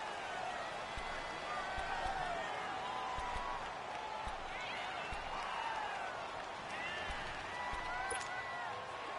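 Continuous stadium crowd roar from a Madden 19 football game, a home crowd loud enough to drown out the snap count near the goal line, a steady dense wash with scattered shouts and whistles and a commentator talking over it.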